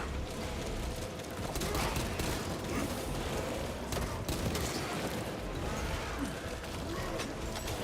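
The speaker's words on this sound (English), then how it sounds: "taking like 7 bolt pistol shots to take out a fucking Termagant is kind of nuts." Dense, continuous gunfire and combat noise from Space Marine 2, with bolt pistol shots blended into a busy, loud battle mix that runs without pause, alongside a sense of voices in the chaos.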